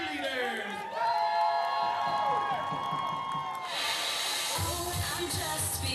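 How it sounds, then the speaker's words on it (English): Crowd cheering and applause at a Friday night high school football game for cheerleaders, a steady roar of shouts and clapping with music or tonal sound layered over it throughout. "let's give a round of applause to the Liberty Tech Crusader cheerleaders."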